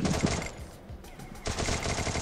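Rapid bursts of gunfire in a Free Fire 4v4 match, a quick volley, a brief lull, then another burst of shots, fairly close and sharp.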